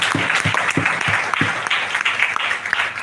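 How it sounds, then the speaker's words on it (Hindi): A seminar audience breaks into loud, sustained applause, a dense wash of clapping from many hands that stays strong throughout. "एक बार जोरदार ताली"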